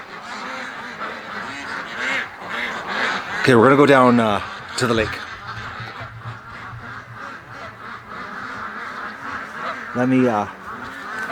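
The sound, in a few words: ducks let out, quacking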